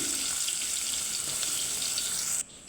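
Sliced onions frying in hot oil for a brinjal curd curry give a steady, close sizzling hiss that runs unbroken and then drops sharply quieter near the end.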